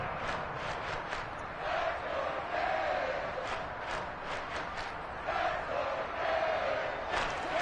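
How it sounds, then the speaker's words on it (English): A football stadium crowd roars steadily through a big third-down moment, a dense continuous wall of cheering with swelling surges, loud and distant-sounding, broadcast commentary faintly under it. "The crowd getting into it as we come up on a big third down"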